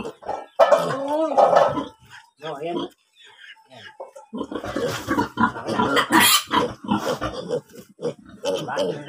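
A pig squeals loudly in repeated harsh bursts while being castrated on a farm, with people talking around it throughout.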